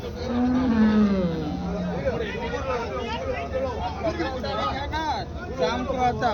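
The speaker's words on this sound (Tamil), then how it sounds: "இதெல்லாம் சன எருமைங்க தாங்க முக்கால்வாசி." Water buffaloes at a Tamil livestock market: a low, drawn-out moo rises early, then fades into a steady hubbub of crowd chatter and animal noise.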